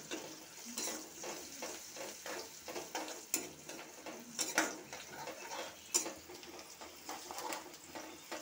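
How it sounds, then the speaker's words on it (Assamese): Chopped onions and two green chilies sizzle in hot oil with a little turmeric in a pan, with steady frying hiss and repeated scraping and clinking as a spoon stirs against the pan, close and fairly loud. "ইয়াত পিঁয়াজখিনি ভজা হৈ গ'ল"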